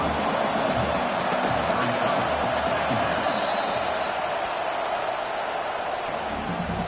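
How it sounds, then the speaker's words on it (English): Stadium crowd roar in the Madden 24 football video game, a dense, steady wash of cheering and noise filling the whole clip at even loudness. "listen to the roar of this crowd"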